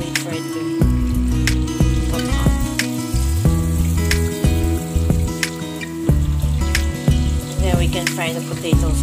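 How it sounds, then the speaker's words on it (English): Potatoes and onions frying loudly in oil in a pan sizzle continuously, with layered crackling and intermittent clinks, as if music plays over it. "So now I'm frying the potatoes, and I also included the onions now"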